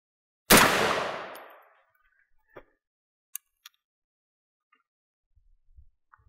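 A single .30 Carbine full metal jacket round is fired at a range into test blocks. One sharp, loud report decays over about a second, followed by faint clicks and small handling sounds.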